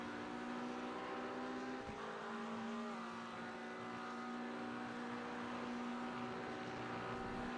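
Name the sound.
race car driving on track, Road America race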